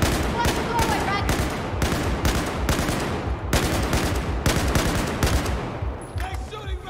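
Battlefield 4 gunfire in a cramped indoor corridor, repeated loud automatic bursts hammering close by in a dense chaotic fusillade with brief pauses between volleys.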